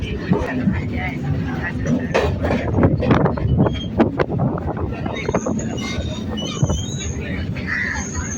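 A local train on the Budge Budge line pulls into Lake Gardens station, with a loud rumbling rattle of wheels and carriages, some squeal and wind buffeting, and a voice speaking over it.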